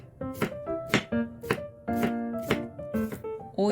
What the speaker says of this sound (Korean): 오이의 양끝을 자르고 오이를 어슷썰게 합니다.